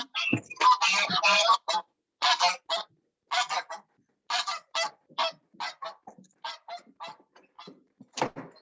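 Farm geese honk loudly and repeatedly nearby, a noisy cluster of calls at first, then spaced, rhythmic honks continuing alone.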